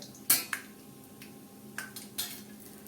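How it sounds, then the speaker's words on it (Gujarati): Peanuts roast in a pan over low heat, with a few light, sharp clicks and taps of nuts and spoon against the metal over a quiet background. "સિંગદાણા સંતળાઈ રહ્યા છે"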